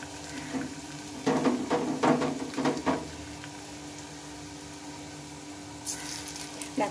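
Teasel gourd (kakrol) pakoras fry in oil over a lowered gas flame, giving a soft, steady sizzle with a few louder crackling bursts early on and a brief hissy flare near the end. No one speaks.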